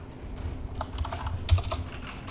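Quick typing on a computer keyboard, a soft, close, irregular patter of key clicks lasting a couple of seconds with no talk.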